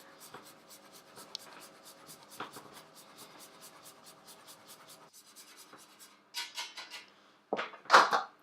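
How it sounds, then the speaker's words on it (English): About 50 grams of dark chocolate is grated lightly over a Mini Mont Blanc dessert. A rapid, even run of soft scraping strokes is followed by a few louder clinks of utensils and crockery near the end. "I'm just going to lightly grate over"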